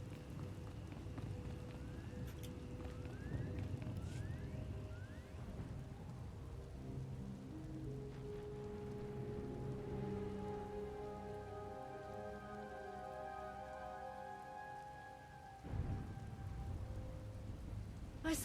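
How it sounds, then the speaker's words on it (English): Steady rain pours with rolling thunder in a stormy scene from Star Wars: The Old Republic, the downpour continuous and moderately loud, with tonal game sounds layered above and a heavy rumble near the end. "Hard to track them through the storm. Rain's wiped out the trail."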